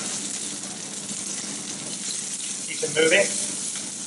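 Minced garlic and ginger sizzle in a hot pan at a seafood cooking class, a steady soft hiss with a brief louder crackle as they go in and are stirred, while a voice speaks briefly over it.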